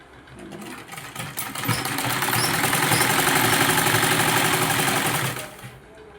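Sewing machine stitching a straight seam on a satin petticoat; the motor winds up and runs in a steady, fast, whirring chatter for several seconds, close and loud, then slows and stops.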